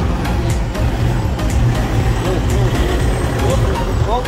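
An offroad vehicle engine rumbles loudly nearby while it tows a stuck car back out of difficult terrain, a heavy low drone with a few sharp knocks and hisses, voices faintly underneath.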